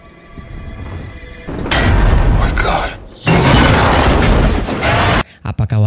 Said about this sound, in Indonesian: berhasil selamat dari ledakan pesawat tanpa mengalami luka yang berarti